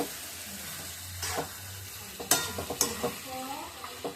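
Food stirred and fried in a pan on a home stove, with a soft steady sizzle and a few sharp scraping and clattering strokes of a utensil in the later half.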